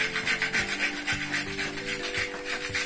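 Dry coconut or cashews being grated by hand for fried modak filling, a close rhythmic rasping scrape repeating several times per second, alone without talk.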